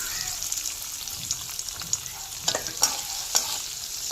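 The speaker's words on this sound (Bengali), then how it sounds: "এবার আমি দিয়ে দিলাম তেলে।" Paneer cubes seasoned with chili powder and salt frying in hot oil, a steady close sizzle with scattered crackles and sharp spitting pops throughout.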